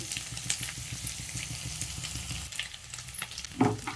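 Onions frying in a pan for egg curry, a close, steady sizzle with scraping stirs and small pops and no talking.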